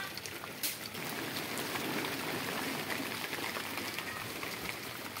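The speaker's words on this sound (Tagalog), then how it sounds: "Nagpaulan-ulan dito dinhi." Steady rain falls throughout, a dense, even patter of drops on surfaces outdoors, continuous and moderately loud with no talking.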